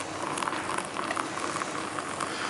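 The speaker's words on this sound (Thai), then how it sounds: "เดี๋ยวใส่น้ำร้อนนะครับ" Hot water is poured onto Ipoh white coffee powder in a cup, making a close, steady splashing and bubbling hiss that runs without a break.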